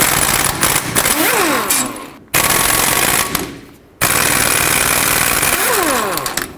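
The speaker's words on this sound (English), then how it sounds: "Now with a 15mm socket, remove all 4 bolts that hold the wheel bearing down onto the knuckle." A power tool with a 15mm socket fires three loud, close rattling bursts, each a couple of seconds long, while removing the wheel bearing bolts from the steering knuckle of a Chevrolet Express 3500 van.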